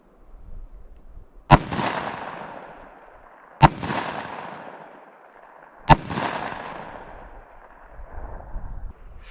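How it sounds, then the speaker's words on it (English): Three sharp, loud gunshots fired at a meat target from 7 yards using Hornady Critical Defense 165 grain FTX rounds, evenly spaced about two seconds apart, each with a booming decaying tail. "I'll shoot this one from 7 yards with our Hornady Critical Defense 165 grain FTX projectile"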